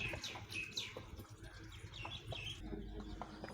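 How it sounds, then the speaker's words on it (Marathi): Birds call with short rising chirps over a tin roof where a pigeon has landed. The calls repeat irregularly against a soft, steady outdoor background. "आमच्या पत्र्यावर एक कबूतर आलेला आहे"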